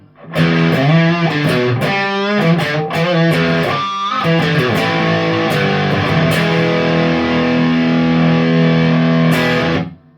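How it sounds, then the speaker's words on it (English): Heavy distortion from an Artec QDD onboard driver colors an electric guitar playing chords and single-note bends, with squealing high harmonics and long, dense sustain that stays loud and steady until an abrupt stop. "And heavy distortion."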